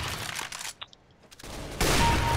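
A few sharp gunshot cracks from CS:GO break out, then a short quiet gap, and a denser loud burst of fire ends the clip.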